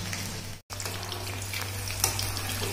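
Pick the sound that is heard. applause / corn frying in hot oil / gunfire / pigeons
corn frying in hot oil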